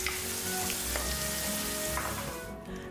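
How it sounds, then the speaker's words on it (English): Turmeric, coriander powder, red chili powder and garam masala sauté in a hot pan, giving a steady, close, continuous sizzle and crackle, heard alone with no talking. "Here I am adding turmeric, coriander powder, red chili powder and garam masala powder and saute the spices well"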